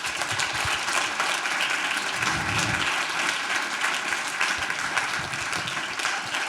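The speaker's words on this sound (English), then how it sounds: "join me in giving them a round of applause" Sustained applause from a conference audience after a faith summit panel, a dense, even wash of many hands clapping at a steady level throughout, with a faint murmur of crowd voices underneath.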